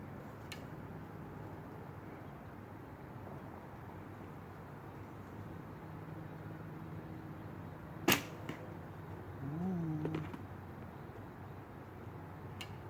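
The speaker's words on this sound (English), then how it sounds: "is to have you hear how quiet this bow ends up being, because that's what you want in the woods" Single arrow shot from a Martin Saber riser bow with Samick limbs outdoors in the woods, a sharp quiet snap and thump partway through over soft background ambience, followed by a faint short rustle.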